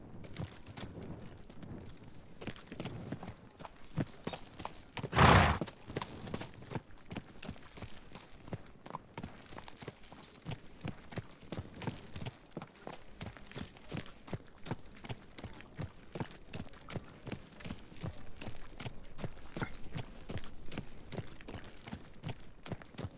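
Horse hooves clip-clopping on a street in Kingdom Come: Deliverance II, a steady walking rhythm of hoof strikes that runs throughout, broken by one loud burst of noise early on.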